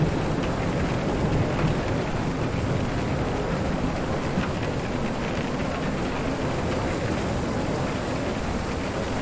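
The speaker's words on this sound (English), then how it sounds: "it only tracks the weather data to match the canopy rain audio with how strong it's" Steady, dense rain pattering on a tree canopy in Train Sim World 4, a continuous broadband hiss with low rumbling undertones, evenly loud throughout with no voices.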